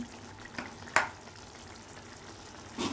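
Ridge gourd and tomato curry simmers in a pan with a faint, soft sizzle, broken by a couple of brief utensil clicks, quiet and close.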